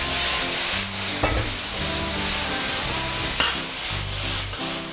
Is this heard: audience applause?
no